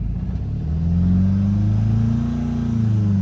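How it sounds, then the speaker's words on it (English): A 2010 Ford Focus engine with an exhaust restriction from a failing catalytic converter, close and loud, rising from idle into a steady revving drone with a rough, muffled rumble and no talking. "what this is an exhaust restriction"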